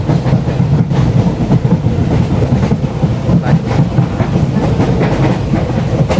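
A passenger train runs on rails just after pulling out of a station on a newly electrified line, its steady loud rumble and rhythmic clickety-clack of wheels over rail joints filling the whole stretch with no talk.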